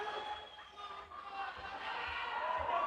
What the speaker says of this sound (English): Crowd is going nuts right here behind us. They're going absolutely bananas.